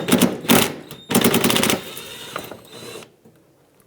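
Ratchet backing a 10mm screw out of the front bumper trim on a 2013-2020 Nissan Pathfinder: a couple of quick close clicking bursts followed by a longer rasping ratchet run that stops abruptly.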